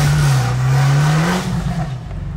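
Fiat 500 engine revving inside the car, a steady low drone that rises slightly in pitch midway and stays loud and close throughout.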